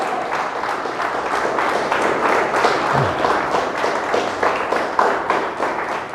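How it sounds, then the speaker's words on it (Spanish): Congregation applauding loudly in a church service, a dense, steady wash of many hands clapping that holds for the whole stretch. "Dele un fuerte aplauso al Señor."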